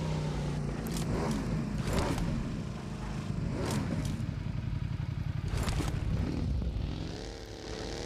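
Motorbike ridden in the mobile battle-royale game PUBG Mobile, a steady droning engine hum throughout with a few whooshing passes and scrapes, loud and continuous with no talking.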